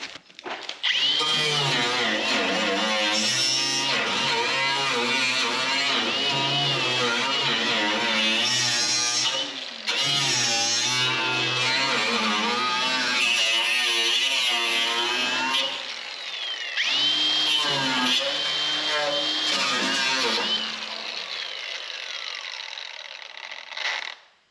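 A power tool whirs steadily at close range while cleaning the rocker area of a Firebird during torque box and rocker extension removal, running loud and nearly continuous with a few brief pauses and changes in pitch.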